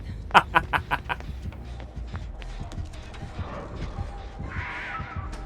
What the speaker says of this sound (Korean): 까마귀 날리시네